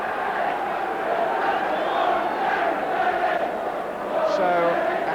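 A Coventry City football crowd roars steadily after a goal, a broad, sustained cheer filling the stadium, with a commentator's voice faintly over it.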